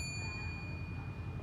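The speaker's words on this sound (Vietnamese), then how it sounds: "Đó, đấy là tiếng chuông." Antique European stone mechanical clock, freshly wound, striking its bell: a clear sustained metallic ring with steady high overtones over a low background hum.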